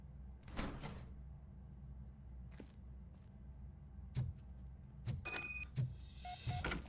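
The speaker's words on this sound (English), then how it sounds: "Now let me get that door open for you." A door in the Robocop video game slides open with several mechanical whooshes and clunks, short bursts spread over a few seconds against a quiet background hum, with no talk.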